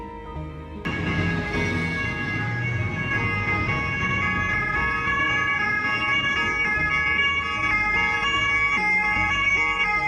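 A French ambulance siren blares loud and close, a steady alternating wail that starts abruptly and holds for the whole stretch, with traffic noise faintly beneath.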